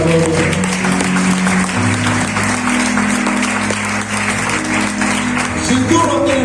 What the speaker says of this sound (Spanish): Den un fuerte aplauso al Cristo de la gloria